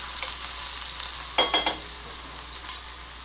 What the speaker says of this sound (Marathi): हा जो आपण लसूण ठेचला होता तो घालते कुळथाच्या पिठाला ना लसणाचं लसणाची फोडणी खूप छान लागते